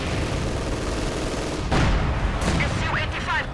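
SU-76 artillery shells bombarding in Company of Heroes 2, a dense rumble of battle noise with sharp blasts and rising whistling shots from about the middle onward, loud and continuous with no clear gaps.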